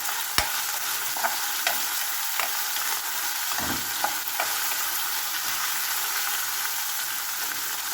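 Onion and garlic sautéing in a pan for a stir-fry of pork liver with bean sprouts, giving a steady close sizzle and frying hiss with a few sharp clicks of stirring utensil against the pan, no talking.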